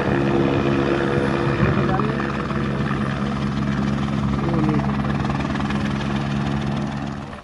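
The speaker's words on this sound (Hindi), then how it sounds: "हेलीकॉप्टर से रेस्क्यू किया गया।" A rescue helicopter thunders steadily overhead during floods from heavy rains in Pakistan, its rotor chop and engine whine loud and constant, with voices faintly under the noise.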